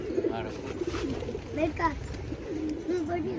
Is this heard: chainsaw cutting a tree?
no